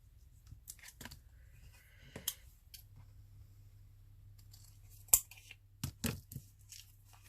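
Scissors snip through paper scraps at close range, with scattered short cuts and crisp rustles, a few sharper snips near the end, over a quiet low hum.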